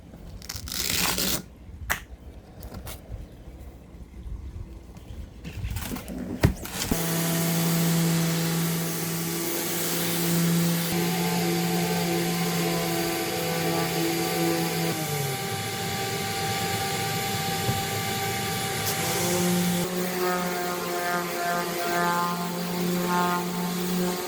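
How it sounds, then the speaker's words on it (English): A power sander whines steadily and loudly on wood after a few seconds of scraping and knocking, its pitch shifting slightly as pressure changes, aboard a boat. "let's do as much sanding as we can"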